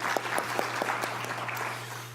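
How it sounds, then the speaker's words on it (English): A liver transplant medical conference audience applauds in a hall, a steady crowd clapping with a few sharper nearby claps over a low constant hum. "I want to give them a round of applause for that"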